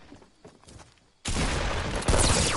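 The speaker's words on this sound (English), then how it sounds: "Shotgun." Shotgun fire in the video game Fortnite: quieter game sounds first, then a sudden loud blast that stays sustained, followed by a second heavy burst near the end, with no talk.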